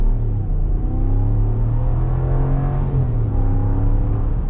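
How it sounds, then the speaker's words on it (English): RAM 1500 Laramie Crew Cab 4x4 pickup accelerating hard, a loud, steady engine drone with rising harmonic pitch and a low rumble, heard from inside the cabin with no talking. "We'll gun it. Get some tire spin."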